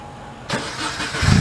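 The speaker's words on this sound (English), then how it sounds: "don't you fire it up, Tommy, and we'll listen to the exhaust." A 2017 Subaru BRZ sports car with a 6-speed manual cranks and fires up abruptly, then settles into a deep rumbling exhaust idle that grows louder, close by with no voices.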